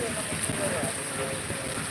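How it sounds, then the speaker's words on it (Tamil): Steady rain falls outdoors on a hot day in Kanchipuram, making a dense, even hiss that holds without breaks across the whole stretch, moderately loud. "சிறப்பாக மழை பெஞ்சிட்டு இருக்குது"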